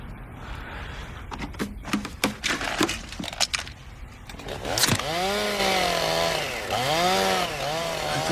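Knocking and clattering give way to a chainsaw starting up and revving loudly, its engine pitch rising and falling as it runs nearby.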